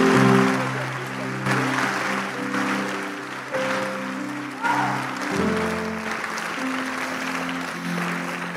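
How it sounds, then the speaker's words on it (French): Church congregation clapping together as an offering to God, sustained applause over a held keyboard or organ chord, loud and continuous. "Give a clap offering to God."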